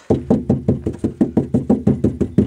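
A rapid run of about a dozen hollow knocks on a van door, evenly spaced and close by, with no voices.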